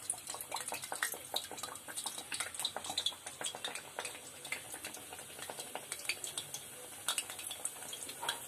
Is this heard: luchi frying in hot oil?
yes